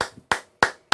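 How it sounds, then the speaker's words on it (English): A few sharp hand claps ring out in a short burst, roughly four evenly spaced claps, close and distinct with no talk over them. "Round of applause, sir."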